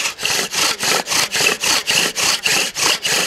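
A thick wooden spindle drilled back and forth on a wooden hearthboard to start a fire, about eleven regular rasping friction strokes in a steady rhythm, close and fairly loud with brief gaps between strokes.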